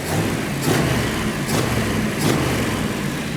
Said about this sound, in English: So now with the engine running